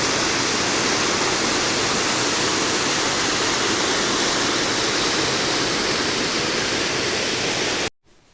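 Water from a large dam spillway pours down in a steady, dense roar of loud broadband rushing that holds unchanged for about eight seconds before cutting off abruptly.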